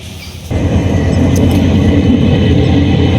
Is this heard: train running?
yes